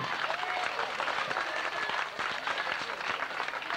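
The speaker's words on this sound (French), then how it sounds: "On applaudit Johan" Audience applause for a contestant named Johan at a 1993 stage show, a dense continuous wash of clapping from a crowd, with a few whistles rising above it.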